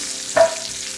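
Steak and shrimp hit a hot pan, a sudden close sizzle that flares up for a moment and then settles into a steady frying hiss.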